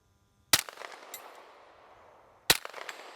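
A 10mm Ruger LC carbine fires two sharp, loud shots at a 4-inch steel plate 100 yards away. The shots come about two seconds apart and each leaves a short ringing echo, with no talking.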